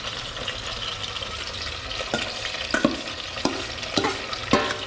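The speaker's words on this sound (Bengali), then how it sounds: "কমপ্লিট রান্না হচ্ছে এটা ছিটকাচ্ছে এই জন্য ঢাকা দিয়ে রাখা আছে" Chicken frying in a covered pan, spattering as it cooks for a Bengali chicken laal jhol, with a continuous sizzle and a scattering of sharp pops and spits toward the end, close and moderately loud.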